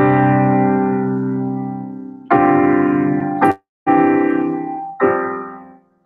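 Sustained keyboard chords in a rearranged worship voicing ring out loud and close, four held chords each decaying slowly, with a brief gap before the third, played alone without talking.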